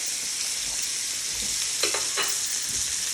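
A steak sears in a hot saute pan, giving a loud, steady close-up sizzle with a few faint clinks of handling and no voices.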